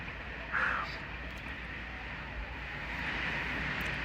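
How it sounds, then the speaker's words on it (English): Wind blowing through and around an RV at a ranch during a rain and wind storm, a steady broadband rush with slight swells and no clear gusts. "you can hear the wind blowing through the RV"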